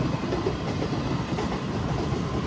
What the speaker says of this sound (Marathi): मालची ट्रेन आहे इथं